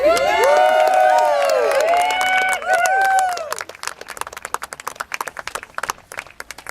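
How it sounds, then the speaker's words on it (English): A wedding crowd cheers and shouts loudly with many overlapping voices, then the yelling gives way to a burst of dense, close clapping that thins out toward the end. "And the crowd goes wild."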